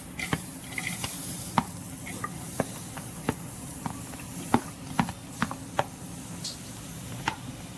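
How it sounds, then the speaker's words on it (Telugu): Cluster beans frying in a kadai on the stove. A soft continuous sizzle runs under sharp scattered ticks and spatters from the spoon stirring against the pan. "స్టవ్ ఆన్ చేసుకొని కడాయి పెట్టుకొని గోకరకాయని వేసుకొని వేయించుకుందాం."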